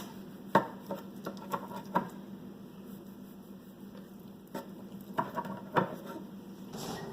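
A knife cuts through pizza roll dough directly on a kitchen counter, making a handful of sharp, irregular taps and knocks close by over a quiet room hum.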